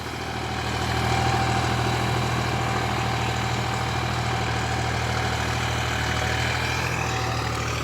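A 50 HP farm tractor engine runs close by at a steady idle, a loud, even low rumble with constant vibration and no pauses, no voices.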